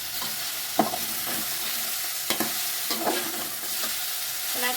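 A spoon stirs vermicelli upma in a pan, with repeated scraping strokes over a steady sizzle from the hot pan, heard close up with no talking.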